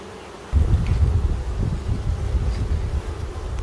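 Honeybees buzz loudly and close around an opened hive during a split of a double nuc with swarm cells, a dense low hum that starts abruptly and keeps going steadily throughout.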